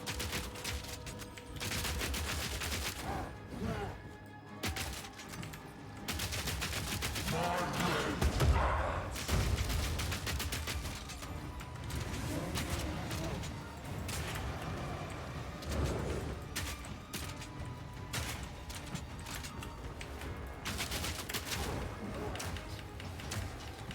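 Grenades and other combat blasts explode in Path of Exile 2, with heavy thumps and bursts of fire running continuously through the dense game mix, with a voice talking over it.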